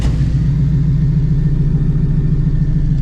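A 900HP Shelby GT350 with a new twin disc clutch, its engine droning steadily and loudly at low revs up close while the clutch is ridden, a constant deep rumble with no breaks.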